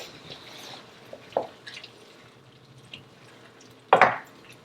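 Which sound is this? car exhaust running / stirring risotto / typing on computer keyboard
stirring risotto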